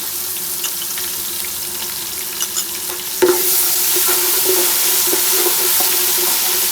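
Onion and garlic fry in a pot for yakhni pulao, giving a steady close sizzle that jumps louder and fuller partway through as more goes into the hot oil, with occasional light stirring clinks and no talking.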